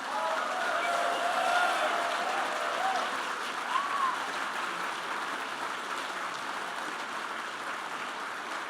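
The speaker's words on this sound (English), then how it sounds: "Let's give a huge round of applause to the folks on stage." An audience applauds the people on stage at a comedy panel event, a steady wash of clapping that swells early and then slowly tapers off.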